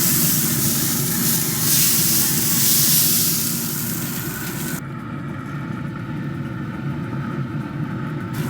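Water spritzed onto a spatchcock turkey inside a hot pellet grill gives a loud, broad hiss and sizzle that fades after a few seconds, then drops to a low, steady hum.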